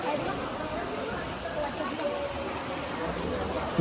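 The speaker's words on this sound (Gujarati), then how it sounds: "વરસાદ તો ચાલુ જ છે" Steady rain falls during a visit to the Chotila hill temple in Gujarat, a constant soft patter across the whole stretch with murmuring voices mixed in.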